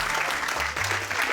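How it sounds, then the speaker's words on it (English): Studio audience applause greeting a chef at a New York chef's table cooking event, a brief steady burst of clapping that fills the moment. "round of applause."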